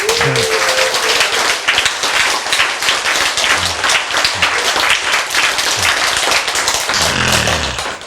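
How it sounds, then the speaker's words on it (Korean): A lecture audience claps steadily and loudly for several seconds, a dense even wash of hands with a few louder claps standing out. "박수."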